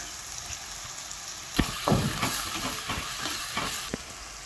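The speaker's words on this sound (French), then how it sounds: "Vous pouvez voir que l'oignon a bien frit." Onion, curry powder and crushed garlic fry in a pan with a steady close sizzle, broken by occasional scrapes and clicks of a utensil stirring.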